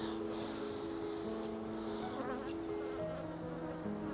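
Honey bees swarm at an open beehive around their queen. Their buzzing is a dense, continuous drone with overlapping pitches, steady and fairly quiet, heard close by.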